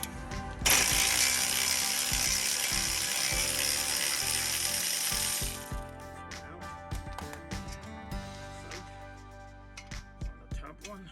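A hand ratchet loosens the brake caliper bracket bolts on a 2012 Nissan Sentra, giving bursts of close, crisp clicking after a long hiss of broadband noise at the start.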